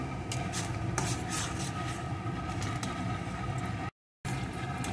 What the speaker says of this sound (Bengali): এখন আরও কিছুক্ষণ মশলাটাকে কষিয়ে নেব।